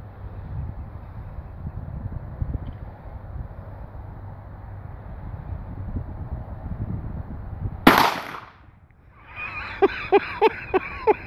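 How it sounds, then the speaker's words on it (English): A single sharp gunshot cracks out at an outdoor shooting competition, close and loud, following a long stretch of wind and rumbling background noise, then trailing into a quieter tail of ringing, clinking sounds. "He's shooting his Christmas present."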